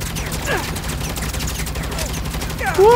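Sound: heavy gunfire from the video game Saints Row

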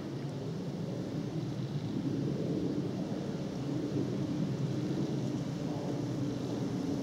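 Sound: jet aircraft noise overhead

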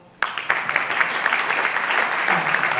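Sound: audience applause at veterans' celebration

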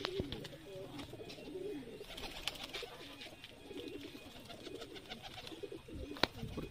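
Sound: pigeons cooing in a loft

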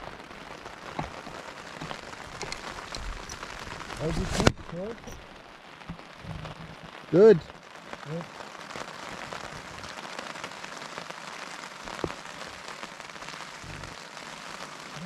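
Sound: rain falling on tent

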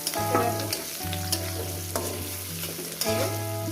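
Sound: food frying in a pan

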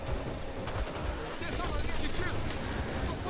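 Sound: gunshot and exploding barrel in video game Back 4 Blood

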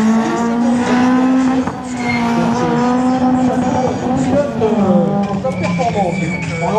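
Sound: Citroën Saxo racing in a slalom, tires squealing

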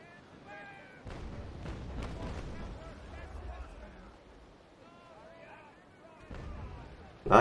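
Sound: ship cannon fire in the video game Naval Action

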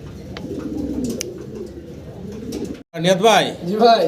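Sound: pigeons cooing in a cage

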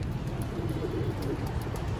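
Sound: pigeon cooing near a trap

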